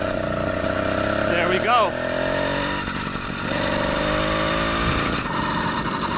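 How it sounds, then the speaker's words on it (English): A home-built two-stroke 80cc moped engine fires up and settles into a loud, buzzing, steady run close by, with a brief revving rise partway through and a person speaking over it. "I got my home-built two-stroke 80cc moped right here."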